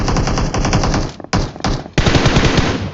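Sustained automatic machine-gun bursts in the battle-royale shooter PUBG, loud and close, rattling almost continuously with two brief gaps in the firing.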